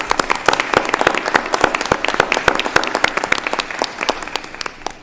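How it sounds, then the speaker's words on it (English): A crowd at a school district public meeting gives a round of applause, many distinct hand claps close by, steady then tapering slightly. "You truly deserve another round of applause"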